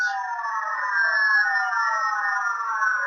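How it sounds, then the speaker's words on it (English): Backward Music Station shortwave signal: encoded tones in layered, slowly sweeping, wavering pitches that drone on steadily and loud, with no break and no voice. "The signals are comprised of sweeping low-pitched and repeated sounds"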